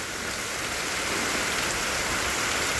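Steady rain pours down during a monsoon spell, a dense even hiss of drops on surfaces that holds constant and loud throughout with no voices.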